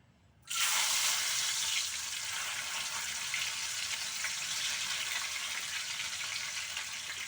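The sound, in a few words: soaked urad and chana dal added to hot oil in a wok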